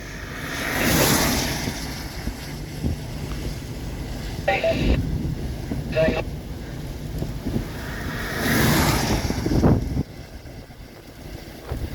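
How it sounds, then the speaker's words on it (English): Strong wind gusts from a line of severe storms in Searcy, Arkansas, roar across the microphone in two big surges, with steadier rushing and buffeting between them, loud and close. "amazing wind gusts here"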